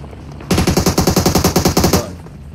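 Automatic gunfire in PUBG Mobile sprays into the air in one loud, rapid burst of roughly fifteen evenly spaced shots lasting about a second and a half, then cuts off, with no talk.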